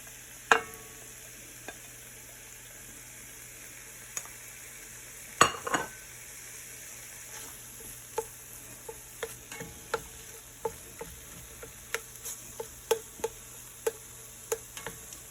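Ground beef and bacon cooking in a pan, heard as a quiet, steady sizzle broken by scattered clicks and light utensil taps, with a few louder scraping stirs.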